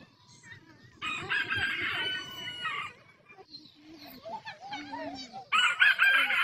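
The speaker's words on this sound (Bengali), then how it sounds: "এই মুরগি, এই বড় গাছের উপরে।" A chicken perched up in a big tree crows loudly and close twice, with a stretch of clucking between the crows and faint voices in the background.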